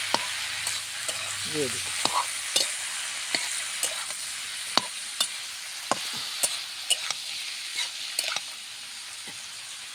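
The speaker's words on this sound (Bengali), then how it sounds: "নাড়াচাড়া করে আর একটু ভেজে নেব।" Goat tripe fries in a pan with a continuous sizzle while a utensil stirs it, giving repeated sharp scraping clicks at an uneven pace; a voice speaks briefly early on.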